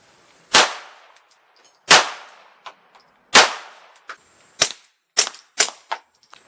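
Remington Subsonic .22LR rounds fire from a Taurus, first unsuppressed then suppressed: three loud sharp cracks about 1.4 seconds apart, followed by several quieter, quicker shots with faint metallic clinks between.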